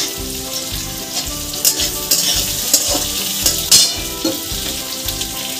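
Freshly chopped onions and whole garlic cloves sizzle and fry steadily in a hot pan for a black pepper chicken, with a spatula scraping and stirring in irregular bursts close by.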